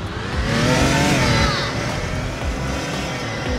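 Racing car engine in a video game revving hard and climbing in pitch, loud and continuous with rising harmonic whine that levels off into a steady high drone.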